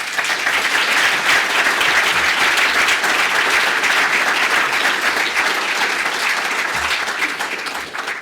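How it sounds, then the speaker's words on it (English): A large audience applauds at the closing session of the 2019 BCCM Leaders' Summit, steady dense clapping filling the room at close range for the whole stretch and tapering slightly at the end. "I think that's worth a round of applause."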